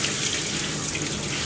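Steady shower water pours and splashes continuously while rinsing a Miniature Schnauzer during grooming, a close, even hiss of running water with no voices.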